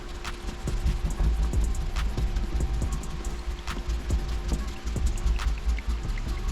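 Steady rough scrubbing friction up close, with scattered small clicks and squeaks as a clay bar is rubbed back and forth over the paint of a C6 Corvette Grand Sport.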